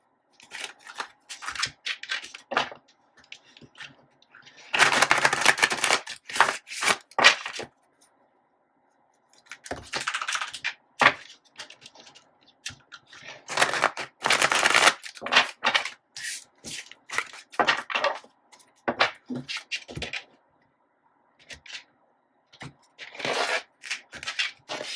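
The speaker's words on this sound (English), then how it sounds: "I'm just going to pull 2 cards for each one of these" Tarot cards are shuffled and pulled from a deck, with repeated close riffling and flicking bursts, some long and dense, others short, separated by quiet gaps over about twenty-five seconds.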